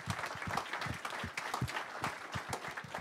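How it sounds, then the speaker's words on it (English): An audience applauds at a motorsport announcement for a Garage 56 Le Mans entry, with continuous, moderately distant clapping from a sizeable crowd and no talk. "Round of applause for everybody, please."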